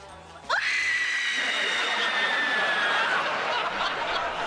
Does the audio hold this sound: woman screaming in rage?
yes